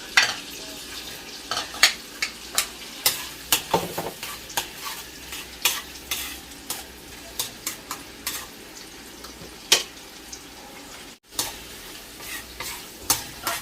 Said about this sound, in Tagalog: Sasaputsa na tayo. Lagyan na natin yung bawang.